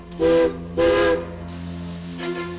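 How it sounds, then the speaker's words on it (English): Two long, loud blasts from the whistle of a Durango & Silverton narrow gauge steam locomotive, a short gap between them, followed by a fainter hissing whistle tone. "The engineer gives 2 blasts of the whistle."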